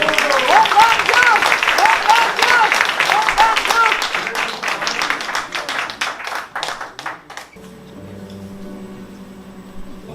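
Audience applause for a poet at a poetry reading, a dense burst of clapping with some voices mixed in that thins out and fades, giving way to a quiet room tone.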